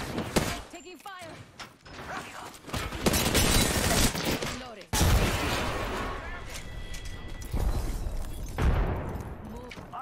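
Gunfire in an Apex Legends ranked match, dense bursts of rapid shots and impacts with booming hits layered over game effects, loud and close, while a player talks over the action.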